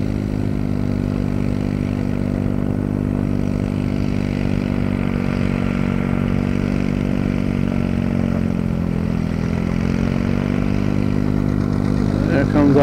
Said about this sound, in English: There comes our leader. It's John Deere.